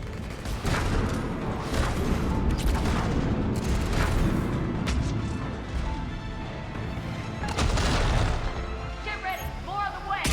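Enemy gunfire in Mass Effect 3 crackles and thuds through ten seconds of chaotic combat, with repeated impacts, crashes and scattered shots. Someone talks over the fighting at times.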